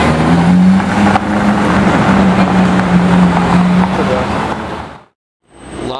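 A loud, steady engine drone from a Lava Orange Porsche 992 Turbo S Cabriolet sports car, holding near and strong for about five seconds, then cutting to brief silence before rising again.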